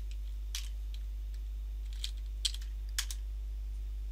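Keys tapped on a computer keyboard while entering a PowerShell command, a few sparse, close, crisp clicks spaced unevenly over a low steady hum.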